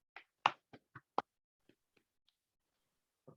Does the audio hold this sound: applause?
yes